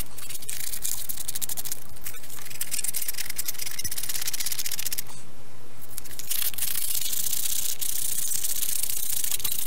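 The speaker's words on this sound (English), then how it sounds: "Lots of hand sanding." Hand sanding of a wooden bottle opener gives scratchy, rhythmic rubbing strokes, close and fairly quiet, with brief pauses between bursts.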